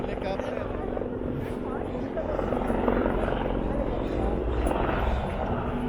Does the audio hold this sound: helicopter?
yes